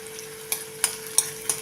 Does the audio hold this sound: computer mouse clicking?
no